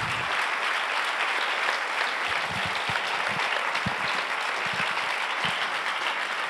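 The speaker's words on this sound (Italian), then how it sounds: "Questo è il nostro applauso." Audience applause at an Italian public event on the Stefano Cucchi case, steady dense clapping filling the room throughout, with a few sharper individual claps standing out near the front.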